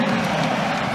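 A dense, steady student crowd roars and cheers at a women's college volleyball home opener between Creighton and Louisville, loud and continuous throughout without a break.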